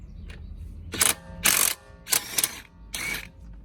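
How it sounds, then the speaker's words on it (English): An impact gun loosening lug nuts on a 2013 Dodge Journey 3.6L SXT during a brake job: four short, loud, rattling bursts with brief pauses between them. No one talks. "Finally have an impact gun, and I'm just going to do it the lazy way."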